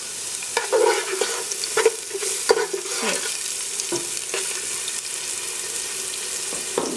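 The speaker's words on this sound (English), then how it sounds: "that's exactly how it's supposed to sizzle" Onions sizzle and crackle steadily in hot oil while a utensil stirs and scrapes the pan; a voice speaks one brief word.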